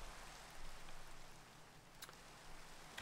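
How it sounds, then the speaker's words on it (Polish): Soft, steady rain falls in a modded Minecraft world, a faint continuous hiss with a few slightly louder patters and drops scattered through it, heard alone without talk. "Jeszcze deszcz"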